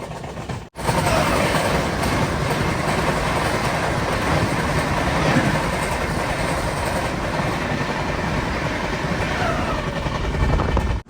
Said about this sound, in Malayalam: ഇതിലൂടെ ഇപ്പൊ ഒരു ട്രെയിൻ വരും, മാൽഡ ടൗൺ SMVT ബംഗളൂരു അമൃത് ഭാരത് എക്സ്പ്രസ്